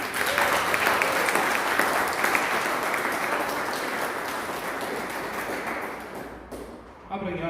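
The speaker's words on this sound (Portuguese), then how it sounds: "Quem crê se expressa e aplauda o Senhor." A church congregation applauds in sustained, dense clapping that stays loud for several seconds, then thins and fades near the end.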